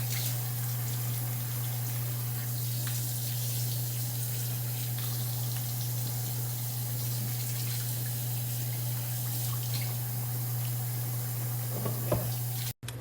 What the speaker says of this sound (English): So now I'm washing it, putting it in my bowl,